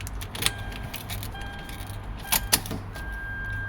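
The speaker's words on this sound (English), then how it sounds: "Let's put the key on." Car keys jangle in a 2005 Toyota Land Cruiser 100 Series as the ignition is switched on, a few short metallic clinks over a steady low hum, with faint electronic tones in the background.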